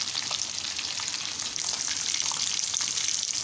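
Chicken pieces frying golden in hot oil in a home kitchen, giving a continuous, even sizzle and crackle with faint stirring, close but fairly quiet, with no talking.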